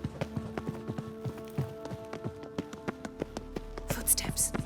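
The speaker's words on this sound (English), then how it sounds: "Footsteps." Footsteps in The Witcher video game, a steady series of close, hard-soled steps walking at an even pace. A faint murmur joins them toward the end.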